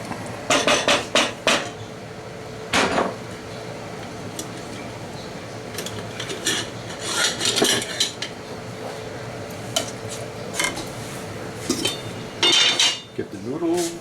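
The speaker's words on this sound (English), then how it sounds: "spoon this on top of the noodles" Veal paprikash being spooned from a pot onto noodles on a plate, with repeated sharp clinks and scrapes of metal utensils against cookware in irregular bursts, close and fairly loud, no talking.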